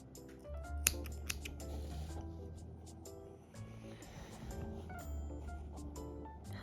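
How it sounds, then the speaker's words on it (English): Scissors snip through crochet yarn, a few crisp close cuts, with quiet rustling and handling noise around them. "Now you can cut off the yarn from here too."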